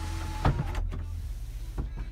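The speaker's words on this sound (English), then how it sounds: "I did the little open thing, not slide, so I'll go down, then I'll slide it" The sunroof of a 2007 Chevrolet Suburban LTZ whirs open with a short electric motor hum, followed by a soft mechanical clunk, then a brief second motor burst, heard from inside the cabin.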